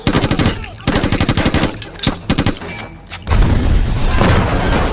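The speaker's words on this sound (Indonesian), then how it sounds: "Sehingga terjadilah aksi baku tembak" Loud, dense gunfire from an action film shootout between police and a fugitive: rapid machine-gun bursts and heavy booming shots, broken by short gaps and ending in a sustained roar of blasts.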